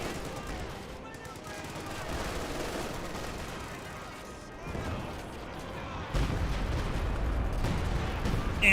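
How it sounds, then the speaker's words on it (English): Artillery fire in the Company of Heroes 2 strategy game, with dense rumbling blasts and gunfire forming a continuous barrage that gets heavier near the end, mixed under a commentator's voice. "And we've got some artillery running on in."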